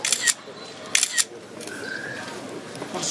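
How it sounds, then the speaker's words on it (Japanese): Camera shutters click in quick bursts during a commemorative group photo at a tourism ambassador appointment ceremony in Ono, Fukushima, several sharp clicks near the start and around one second, with faint background murmur and bird-like cooing. "しっかりとシャッター音が聞こえますので大丈夫ですね。"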